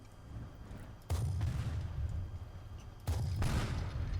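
Two heavy tank cannon shots in Teardown, each a sudden loud booming blast followed by a rumbling tail, spaced about two seconds apart against quiet background noise.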